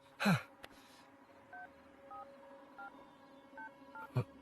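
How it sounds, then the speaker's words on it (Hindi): Telephone dialing tones: a series of short keypad beeps at an uneven pace, framed by two brief louder noises at the start and end. "यार तू फोन लगाएगा ठीक है प्लीज?"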